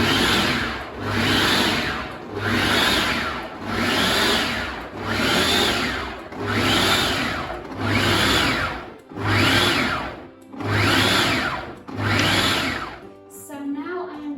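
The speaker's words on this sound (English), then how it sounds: "So now I'm going to pulse my butter." Food processor pulsing butter for pie pastry in roughly nine loud, even bursts about a second and a half each, separated by brief gaps, motor whirring steadily up close with no talking.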